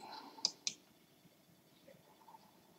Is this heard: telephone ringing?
no